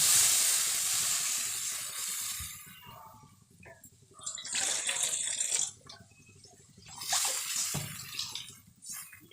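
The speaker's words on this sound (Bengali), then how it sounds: "পাতলা ঝোল করবো তো ওই জন্য একটু জলটা বেশি দিলাম" Water streams into a cooking pan for a thin Bengali fish curry, a steady hissing pour that starts loud, breaks off, then returns in two further bursts, close by with no talk.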